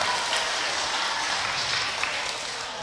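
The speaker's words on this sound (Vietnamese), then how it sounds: "Rồi cho một tràng vỗ tay thật là lớn nha." Broadband, steady applause from children at a temple event held by a Buddhist pagoda, with no voices standing out. It stays dense and loud with no break for close to three seconds.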